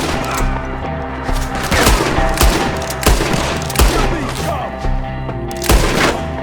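Gunfire in the video game Red Dead Redemption 2 during a shootout, with repeated loud shots and booming reports over a dense battle backdrop, some spaced a second or so apart.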